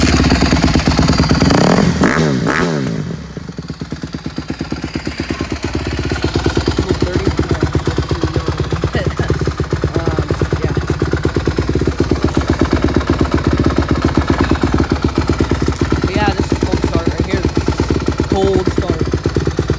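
A 2020 Honda CRF150RB dirt bike cranks and fires on a cold snowy day, then settles into a loud, rapid, even idle thumping close by, with someone speaking briefly.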